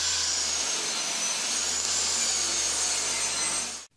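A 3/4-inch pine board being ripped lengthwise to 3.5 inches wide with a power saw, a steady loud whine and rasp of blade through wood heard close and alone, ending abruptly as the cut finishes.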